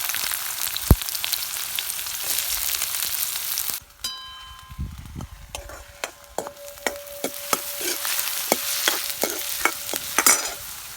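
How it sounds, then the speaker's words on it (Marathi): Finely chopped onion drops into hot oil in a pan with a loud burst of sizzle, followed by a steady frying hiss and a quick run of metal spoon clinks and scrapes as it is stirred, close by and without voices. "आता याच्यामध्ये आपण एक मीडियम आकाराचा कांदा बारीक कापून घेतलेला तो घालूया"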